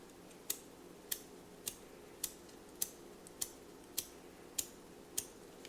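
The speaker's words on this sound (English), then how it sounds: "You can hear that spring compressing in there." An old aluminum block lighter being tightened down, its spring compressing inside the flint tube with faint, evenly spaced sharp clicks about every half second over a low hum, close and quiet.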